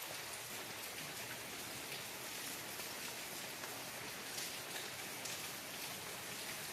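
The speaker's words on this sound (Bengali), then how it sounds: "কি সুন্দর বৃষ্টির ফোঁটা পড়ছে।" Continuous rain falls steadily, a soft, even hiss of drops with no voices, constant throughout.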